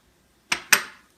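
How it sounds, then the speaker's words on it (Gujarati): Mustard seeds tip into hot oil for Gujarati chevda, giving two quick close rattling crackles a moment apart that fade fast into quiet. "અહીંયા આપણું તેલ ગરમ થાય છે, એની અંદર હું નાખી દઈશ આપણી રાઈ।"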